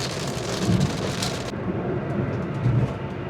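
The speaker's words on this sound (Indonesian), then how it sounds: "Sudah hujan nih di sini." Rain falls on a Daihatsu Ayla driving a toll road between Tegal and Jakarta. A steady, dense patter and hiss of rain on the car continues throughout, close and fairly loud over the road noise, with no talk.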